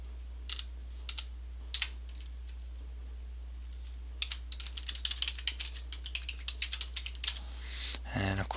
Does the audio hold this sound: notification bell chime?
no